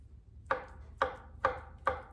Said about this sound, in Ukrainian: Морку порізала, тепер я перейшла до картопельки